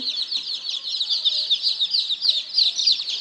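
Young Burmese fighting chicken chicks peep in a shrill continuous chorus of overlapping cheeps, close and steady, with faint bumps beneath.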